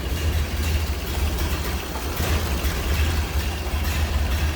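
A 1929 Ford Model A engine idles steadily with a low, even rumble and a faint mechanical ticking, close by with no one talking.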